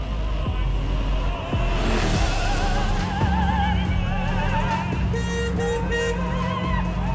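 A restored classic car cruising along: a steady low engine and road rumble runs under animated chatter and laughter from people inside.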